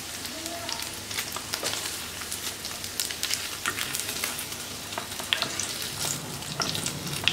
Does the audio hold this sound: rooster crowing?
no